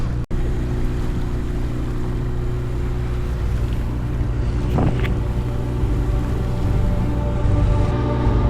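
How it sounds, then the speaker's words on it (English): A sailboat under way at sea between Starcross and Dartmouth in roughly force 4 wind, with a steady rushing of wind and water close to the microphone, a sharp knock near the start and no voices. "We're sailing."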